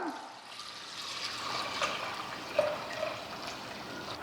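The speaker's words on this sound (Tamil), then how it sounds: "மெதுவாக பால் எடுத்து வந்து சிந்தாமல் ஊற்றிக்கலாம்" Milk poured slowly and carefully into a vessel coated with curd while making thick homemade curd, a soft, steady trickle of liquid that stays gentle and even, with a couple of faint splashes partway through.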